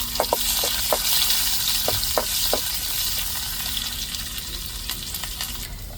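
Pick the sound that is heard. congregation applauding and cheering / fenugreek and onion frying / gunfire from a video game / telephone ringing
fenugreek and onion frying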